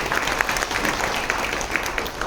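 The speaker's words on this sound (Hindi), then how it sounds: "फिर से एक बार अपने लिए तालियां बजा दें" Steady applause from an audience at a spiritual gathering on inner peace, a dense even wash of many hands clapping with no pauses, heard throughout at moderate level.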